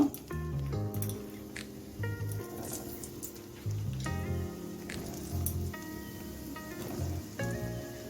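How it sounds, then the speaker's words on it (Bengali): A steady, quiet sizzle of eggplant frying in mustard oil, with soft crackles and drips, under a repeating tonal background pattern. "এখন বেগুনটা দিয়ে দিচ্ছি ভাজার জন্য"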